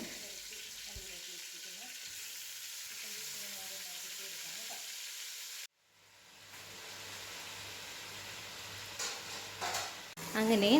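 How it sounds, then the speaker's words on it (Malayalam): Chicken pieces frying in hot coconut oil produce a soft, steady sizzle with light stirring sounds, fairly quiet, briefly cutting out midway before resuming with a low hum and a few louder clatters toward the end. "വറുക്കാൻ മാത്രം ആവശ്യമുള്ള വെളിച്ചെണ്ണ ഒഴിച്ചിട്ടുണ്ട് അതിലേക്ക് ചൂടായപ്പോഴത്തേക്കും ചിക്കൻ ഓരോന്നോരോന്നായിട്ട് ഇട്ട് കൊടുക്കുവാണ്"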